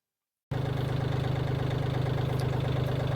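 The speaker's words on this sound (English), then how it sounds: "I'm going to drive the tractor and the hay wagon through" After a short silence, an old tractor engine starts idling with a steady, low, chugging rumble that continues evenly to the end.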